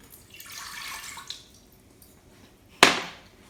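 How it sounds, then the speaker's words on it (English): Water is poured into an empty cooking pan with no oil while making Disney-style churros, giving a soft, splashy pour that ends in a single short, louder splash near the end. "in your other pan with no oil in it, you need to put your water in"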